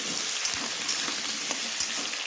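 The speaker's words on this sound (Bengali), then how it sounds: "নেওয়ার পরে আমি এখানে দিয়ে দিচ্ছি মিষ্টি কুমড়ো আর আলুটাকে এবার একটু আবারও নাড়াচাড়া করে নিচ্ছি" Pumpkin and potato pieces sizzle steadily in an oil pan while a spatula stirs them, with a dense continuous hiss broken by a few soft scraping knocks, close and alone.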